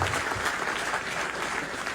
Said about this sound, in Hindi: जोरदार तालियों से आप है तो अबरार भाई के लिए